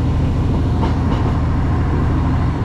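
Trains running past a rail depot shed at Canton, Cardiff, a steady close rumble of wheels and engines with a faint rhythmic clatter throughout.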